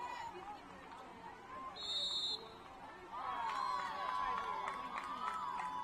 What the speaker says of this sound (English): Ref blowing whistle